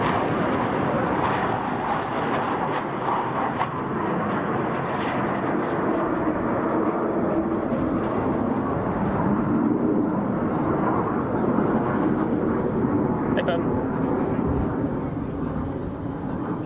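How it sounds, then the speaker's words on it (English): Spanish aircraft coming in to land at the Royal International Air Tattoo air show, a steady broad engine roar holding at a constant loud level throughout, with faint voices over it. "while we're watching some aircraft from Spain land"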